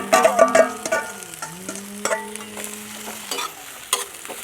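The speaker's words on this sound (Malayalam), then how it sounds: "ഇഞ്ചിയുടെ കൂടെ തന്നെ പച്ചമുളക് ഇനി ഇതിലേക്ക് നമുക്ക് സവാള തട്ടി കൊടുക്കാം" Onion tipped into hot oil with ginger and green chilli, frying in a loud, crackling sizzle with stirring clatter throughout.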